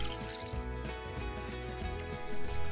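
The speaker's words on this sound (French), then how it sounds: "Et on y verse les 400 ml d'eau." Water, 400 ml, is poured into a saucepan of soaked rice as it is made ready to cook for onigiri. It gives a steady close trickling and splashing that lasts a few seconds, with no talk.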